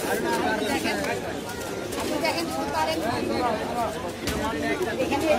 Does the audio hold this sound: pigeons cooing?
yes